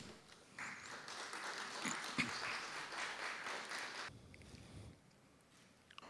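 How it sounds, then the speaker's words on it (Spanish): Applause at a healthy corner-store certification ceremony in Miraflores, moderate crowd clapping heard from a distance that swells, then thins after about four seconds into scattered claps. "la recibimos con un fuerte aplauso"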